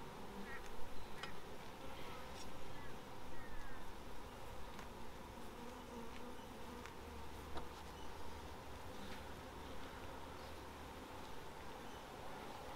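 Honey bees buzz inside an opened beehive during a frame inspection: a dense, steady swarm hum with individual bees zipping close by, no talk.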